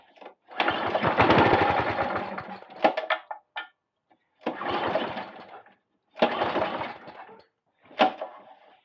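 A Qualcast lawn mower with a Tecumseh engine is pull-started in several attempts: bursts of rasping, whirring cranking noise, each a second or two long, separated by brief pauses, close and loud.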